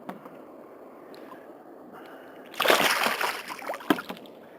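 A sudden burst of splashing and sloshing water as a caught fish thrashes after quiet moments, with a second sharp splash shortly after, close by, at Mosquito Lagoon.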